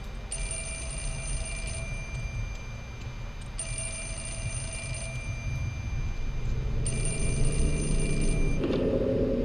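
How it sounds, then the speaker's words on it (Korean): A telephone rings in the video game Fatal Frame 4 remaster: three long, bright electronic ring bursts evenly spaced over a low ambient drone, with the game's background rising near the end. "전화가 울리네."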